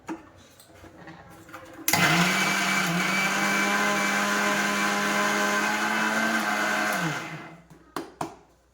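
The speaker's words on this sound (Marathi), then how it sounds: "मी आता छोट्या भांड्यामध्ये बारीक करत आहे" A mixer grinder grinds sesame seeds and jaggery in its small jar for tilgul ladoo: a loud, steady motor whir starts abruptly, runs about five seconds, then winds down, followed by a couple of faint clicks.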